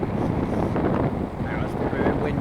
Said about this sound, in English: Now it's probably a bit windy now, going downhill